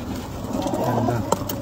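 A racing pigeon hen coos softly and steadily at close range in a loft, with a brief click near the end and faint background noise.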